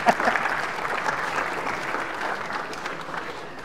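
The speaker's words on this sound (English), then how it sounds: "maybe you can clap for me" An audience claps steadily after a lecture, a dense even patter of many hands at moderate volume that continues for several seconds without cheering.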